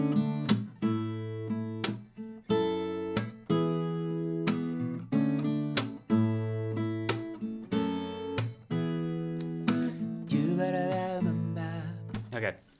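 Acoustic guitar plays a song, with a steady strummed and picked pattern of repeating chord stabs and bright plucked attacks. It is close and clear, with no voices.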